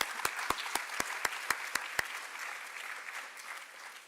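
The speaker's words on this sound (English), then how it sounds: "Can we begin with a round of applause for them as well," Audience applause for the musicians at a Bharatanatyam arangetram: a run of sharp, evenly spaced claps stands out over softer scattered clapping, then the crowd's applause carries on as a steady wash that slowly fades.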